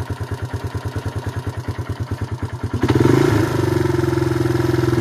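A small engine on an off-grid homestead chugs at a rhythmic idle, its thumping pulses clear and close, then abruptly revs up into a louder, smoother, higher running drone.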